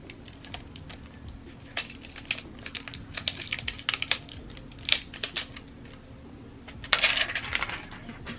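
A Casetify phone case is pressed onto a phone, giving a series of sharp, close plastic clicks and snaps scattered irregularly over quiet handling noise, the loudest burst near the end.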